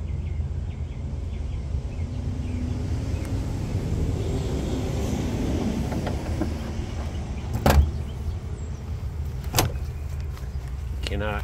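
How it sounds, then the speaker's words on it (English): A 1966 Ford Mustang convertible's door thuds shut with a solid, muffled clunk over a low rumbling background, followed by a second softer knock a couple of seconds later. "Cannot mimic the way that door closes."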